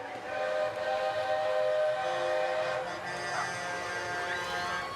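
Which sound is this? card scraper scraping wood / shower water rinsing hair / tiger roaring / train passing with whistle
train passing with whistle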